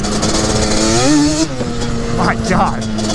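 A Voodoo Banshee motorcycle on a trail revs hard at full throttle, its engine pitch climbing sharply then dropping off, heard close under an excited rider's speech.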